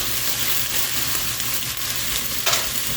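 Frozen vegetables sizzle in a pan with onions and ground beef, a steady close frying crackle with a sharper spatter burst near the end.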